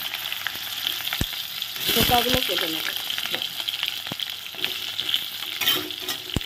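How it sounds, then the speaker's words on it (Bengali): Potatoes frying in hot oil in a kadai, a steady close sizzle with occasional stirring scrapes and bubbling bursts, while a voice speaks briefly over the frying. "আমি এখন আলুগুলো ভেজে নিচ্ছি।"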